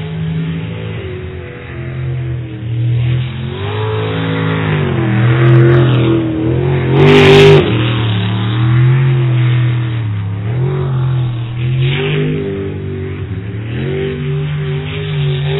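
A race car engine at a qualifying session revs and feathers its throttle, a loud sustained droning roar with rising and falling pitch and one sharp burst midway, heard alone.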